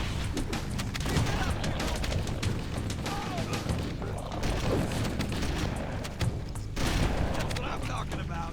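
Sustained assault rifle fire in Halo against the Flood, a dense, continuous crackle of rapid shots and impacts running the whole stretch at steady loudness, with voices under the firing.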